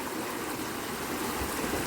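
A shallow river fed by the Boyong River flows steadily, giving a continuous close rushing and gurgling wash with no pauses.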